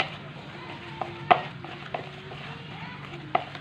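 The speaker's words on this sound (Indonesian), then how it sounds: "setelah kita campur lalu kita aduk rata sampai halus" A carp fishing bait mixture is stirred by hand, soft irregular mushy scrapes with a few sharper knocks against the container, moderately close, no talk.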